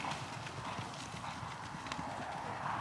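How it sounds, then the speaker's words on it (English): Racehorses walking in a racing yard during a morning warm-up, their hooves clip-clopping in a steady stream, loud and fairly close, with a faint whinny in the mix and no one speaking. "So we've got a horse called Rarish on the far side of the bandages, Gentleman Jack, and we've got Zestful Hope"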